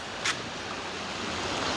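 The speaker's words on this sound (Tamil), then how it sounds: "அதான் தண்ணி பாயிற சத்தம்" Water rushes steadily past at a village in Mullaitivu, a constant broad hiss with one brief click near the start and no voices.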